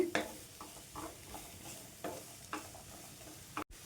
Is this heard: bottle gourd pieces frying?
yes